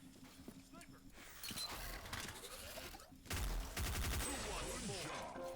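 M16 rifle fire in Counter-Strike Online 2 bursts out as rapid automatic volleys. They grow louder and denser halfway through, with game effects and other noise mixed in.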